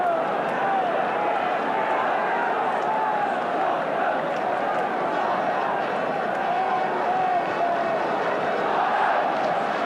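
A large Tottenham football crowd roars throughout a 1970s match against Manchester United, a dense, steady wash of cheering and chanting voices with no letup.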